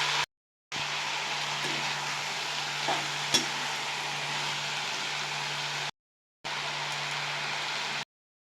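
Ivy gourd (kovakkai) fries in a pan with a steady close sizzle, and a spoon occasionally scrapes as the pieces are stirred, broken by short silent gaps. There is no talking.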